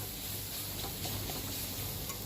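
Steady sizzling of pointed gourd peels frying in a pan, a constant hiss with faint stirring scrapes, no voices.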